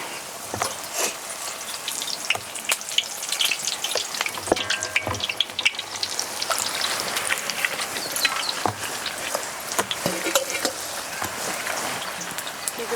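Mixed bajji of mirchi, capsicum, tomato and banana frying in hot oil, a dense continuous sizzle with crackling pops and occasional stirring clicks, close and steady throughout.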